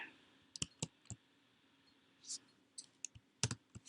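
Sparse, quiet clicks of computer keyboard typing, a handful of separate keystrokes spread irregularly over a few seconds against a low background hum.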